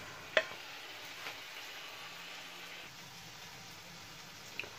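Chicken pieces sizzling quietly in a pan for a quiche with chicken and mushrooms. The frying is faint and steady, with a clink of utensil on pan near the start and another near the end.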